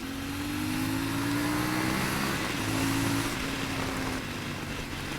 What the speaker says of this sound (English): I just find this engine is really nice and smooth.